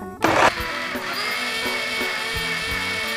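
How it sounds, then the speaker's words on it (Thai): A blender whirs loudly and continuously after a brief clattering start, its motor holding a steady high-pitched drone as it blends pandan leaves with coconut water. "เปิดเครื่องปั่นเลยนะคะ"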